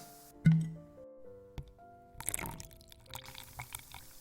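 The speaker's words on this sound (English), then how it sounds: "I'll pour you a glass anyway" A glass of Chianti is poured at close range, a short soft liquid trickle and faint glassy taps sounding alone in a quiet room.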